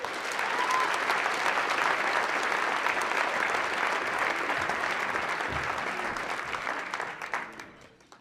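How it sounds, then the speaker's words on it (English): An audience at an awards presentation gives the candidates a sustained round of dense clapping, steady for about seven seconds before it tapers off at the end. "Could we give them one more round of applause?"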